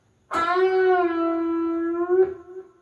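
A single sustained electric guitar string bend rings out, holding steady before a quick pick attack near the end; clear and close, no voices.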